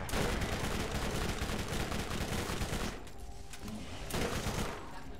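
Sustained rapid gunfire in the video game Borderlands, a dense stream of loud shots that briefly thins before resuming in a burst.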